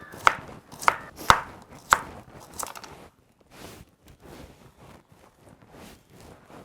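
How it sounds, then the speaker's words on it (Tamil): A knife chops through onions lengthwise on a board for a large batch of kuska, with several sharp, close, distinct strikes early on, then softer, quieter cutting and handling. "இந்த மாதிரி எல்லா வெங்காயத்தையும் நம்ம கட் பண்ணி எடுத்துக்கலாம்."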